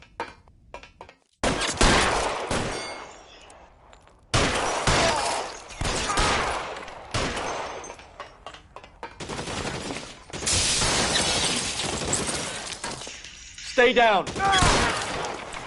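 Bursts of gunfire in a police shootout in the video game L.A. Noire, loud, close volleys of shots separated by short pauses, mixed with in-game voices speaking.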